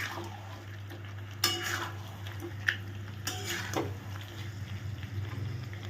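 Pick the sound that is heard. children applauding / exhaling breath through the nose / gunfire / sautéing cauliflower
sautéing cauliflower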